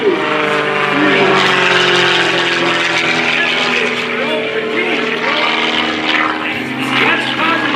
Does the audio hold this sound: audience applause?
no